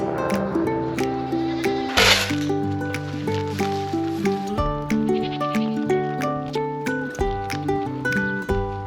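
Dairy goats and young kids bleat over and over in a busy herd, overlapping calls close by, loud and nearly continuous with a brief rustle partway through.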